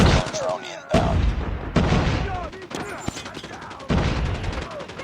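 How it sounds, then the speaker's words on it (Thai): Call of Duty Mobile combat on the Shipment map: sharp bursts of rapid gunfire and booming explosions in close succession, loud and punchy, with someone talking excitedly between the blasts. "โดนยิงระเบิดนะ"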